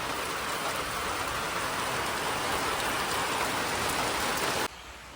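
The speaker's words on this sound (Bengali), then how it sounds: "দেখতে পাচ্ছি বৃষ্টি শুরু হয়ে গেছে" Heavy rain pouring steadily outdoors, a dense, loud, even hiss filling the clip before dropping abruptly to a quieter wash in the last half second.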